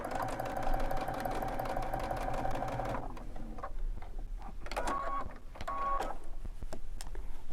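A sewing machine runs a quick burst of lock stitches, rapid and close for about three seconds, then stops, followed by a few short stitching bursts and soft handling noises.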